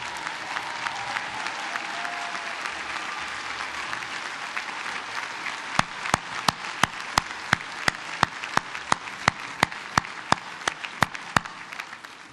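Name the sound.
audience applause for spouses and children at commencement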